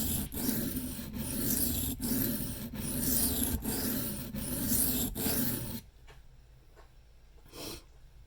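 An Old Timer 5OTG Bruin knife in 1095 steel is drawn freehand across a wet sharpening stone in rapid, regular gritty passes, close and steady, before the strokes stop and only faint quiet scraping remains.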